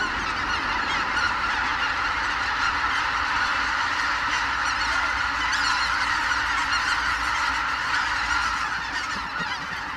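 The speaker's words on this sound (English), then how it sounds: "White-fronted geese, swans and ducks seek out the few northern lakes that will not completely freeze over." A large flock of white-fronted geese on a northern lake in winter, with dense, continuous honking from many birds overlapping into a loud, steady chorus.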